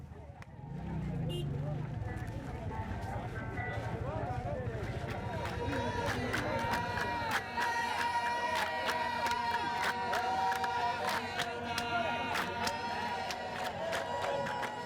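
Festival crowds in an African kingdom gather and celebrate, a busy din of voices and cheering with sharp rhythmic claps or drumbeats growing denser, under steady narration.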